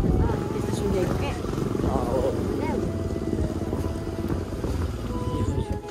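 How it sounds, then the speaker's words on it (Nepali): A motorbike rides slowly through a market area in a Solukhumbu village, its engine a low, continuous rumble heard close, with voices talking over it throughout. "अब बिस्तारै बाइकको साउन्डै त्यस्तो छ त्यस्तो सुनेको के"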